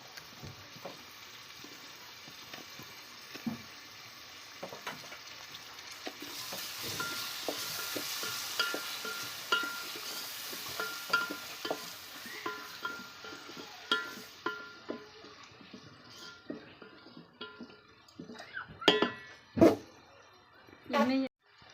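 Tomatoes tossed into a pan of frying onions and chillies for a vegetable dish, with steady sizzling under repeated close spoon scrapes and knocks that grow louder toward the end.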